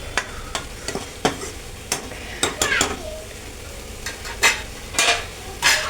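Mushroom thoran with grated coconut is stirred in a pan, with repeated sharp scrapes and clinks of the spoon over a soft, steady sizzle.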